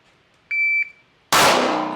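A shot timer gives one clear, steady electronic beep lasting about a third of a second during a timed B8 target drill, followed moments later by a loud, sharp gunshot that rings off.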